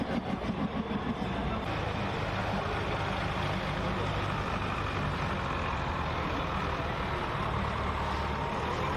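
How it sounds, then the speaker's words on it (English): Super semi pulling trucks at the Cattaraugus County Fair rumble toward the truck pulling track, a dense, continuous diesel drone with a few clattering pulses at the start, steady and loud throughout. "got your super semis making their way to the track now"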